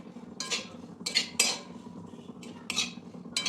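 A utensil stirs and scrapes dry coconut as it roasts in a pan for dinkache laddu, giving repeated close metallic scraping strokes in irregular bursts with short pauses between, and no talking.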